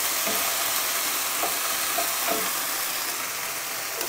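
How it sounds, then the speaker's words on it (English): Kung pao chicken sauce with corn flour is stirred in a hot pan, giving a loud, steady sizzle and hiss broken by a few light scrapes of a utensil. "stir this up so you get the corn flour moving and pop it in there"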